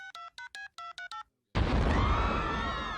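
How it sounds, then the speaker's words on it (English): Six quick cell phone keypad tones beep in a steady rhythm, each one clear and separate, in a Family Guy cartoon scene. After a brief silence a loud, sustained blast of noise cuts in and slowly fades. "Look, I'm gonna call Mahmoud right now on this cell phone he gave me."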